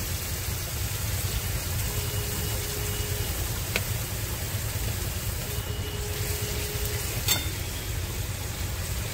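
Pointed gourd and paneer frying in a pan, giving a steady low sizzle with a couple of sharp clinks from the spoon as it is stirred, quiet and continuous throughout.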